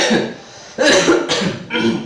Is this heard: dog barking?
no